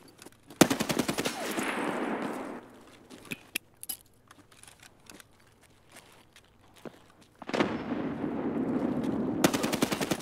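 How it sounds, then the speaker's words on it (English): Rapid automatic gunfire from a weapon in Escape From Tarkov, two loud sustained bursts at the start and end with scattered single shots and footsteps in between. "Oh, the recoil. Freaking love this gun"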